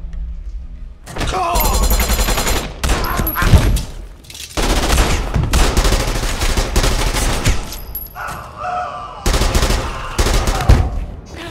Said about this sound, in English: Ori, shoot this dog